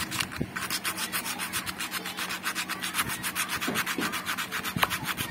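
A harmonium key being rubbed clean by hand, a fast steady back-and-forth scraping with a regular rhythm, close and continuous with a few soft knocks, no talking.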